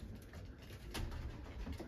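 Crested pigeons coo softly in a coop, giving a faint, low, steady burble over a short stretch.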